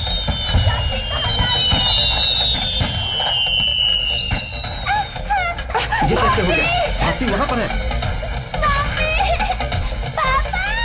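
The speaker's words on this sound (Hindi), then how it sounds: "अरे आग लग गई एक साथ पटाखे में।" Firecrackers set off all at once after catching fire keep crackling and bursting in a dense, loud barrage, with whistling streaks over it and frantic shouting voices throughout.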